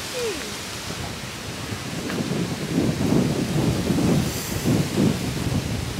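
Strong wind blows outdoors in fall, a broad low rumbling roar that swells and gusts louder midway through, buffeting close up with no one speaking.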